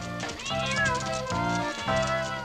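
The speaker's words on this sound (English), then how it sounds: "Then all the cats ran by." A pack of cartoon cats in the 1982 animated series Towser meow together as they run past, several overlapping yowls rising and falling in quick waves over a busy music-like background.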